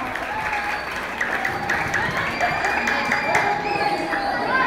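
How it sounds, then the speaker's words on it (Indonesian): Student audience at a 2023 OSIS student council chair debate at MTs Nurul Ulum Jembayat applauding candidate number four, with steady, dense clapping mixed with light cheering and crowd chatter throughout. "berikan tepuk tangan untuk kandidat nomor urut 4"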